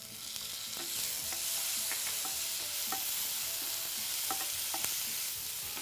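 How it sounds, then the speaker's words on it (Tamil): Tomatoes frying in a pan, a steady hiss of sizzling oil broken by repeated clicks and scrapes of a spoon stirring, moderately close and without talk. "இப்போ இந்த தக்காளி சேர்த்துக்கிறேன்."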